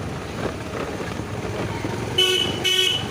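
Car horns honk in a traffic jam caused by trucks in a residential colony, two bright sustained toots rising over a steady rumble of idling engines and road noise, fairly close.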